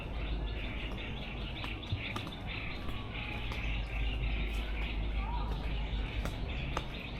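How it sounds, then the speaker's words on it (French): Small birds chirp faintly and intermittently in the distance over a steady outdoor insect drone, on Koh Yao Yai island, Thailand. "les petits bruits d'oiseaux"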